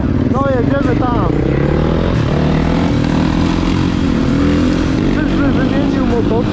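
A Yamaha 450cc motorcycle engine drones loudly and steadily throughout, low and close, with people talking over the running motor.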